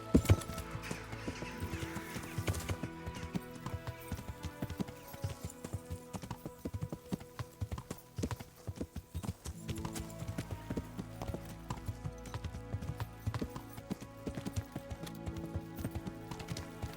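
Horse hooves galloping in Kingdom Come: Deliverance, a fast, steady clip-clop close and prominent throughout, layered over quieter background game music.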